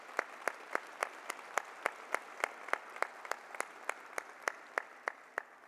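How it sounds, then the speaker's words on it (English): A gala audience at a business hall of fame ceremony gives a steady round of applause, many hands clapping together at a fairly even pace, sustained for several seconds with no voices over it. "Let's give them a round of applause,"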